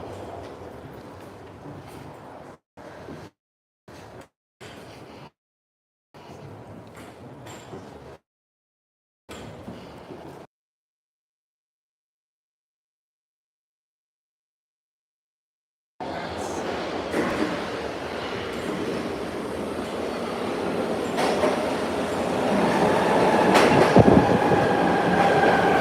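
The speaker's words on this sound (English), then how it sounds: "This is the Patco speed line, y'all. This is the New Jersey train." A PATCO Speedline train in New Jersey roars past near the Ben Franklin Bridge. A loud, steady rush of wheels and rail noise swells in after a silent gap and grows slightly louder, preceded by bursts of talk.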